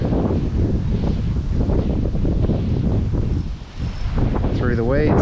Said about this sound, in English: Jesus, wind.